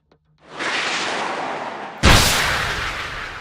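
Rocket artillery strikes from HIMARS hitting Russian equipment, a sustained roar followed by a second heavier blast that rumbles on, loud and unaccompanied by talk.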